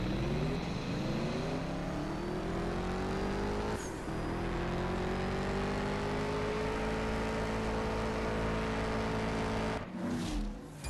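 A drag race car in the CSR2 mobile racing game launching and accelerating hard with nitrous, its engine note climbing steadily through gears, loud and close, with a brief shift break near the end.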